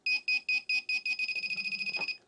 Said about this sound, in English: the closer you get, it vibrates and beeps